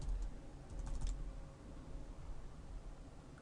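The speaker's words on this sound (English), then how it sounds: "let's go back to our page here and type in our password again." A password being typed on a computer keyboard: a short, quiet run of clicking keystrokes, denser at the start, over faint room hiss.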